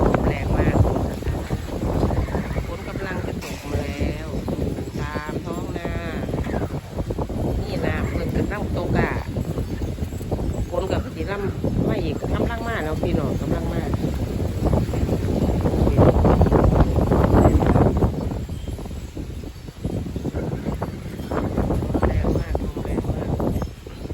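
Strong gusting wind just before rain buffets the microphone with a heavy, rushing rumble that rises and falls while someone talks over it.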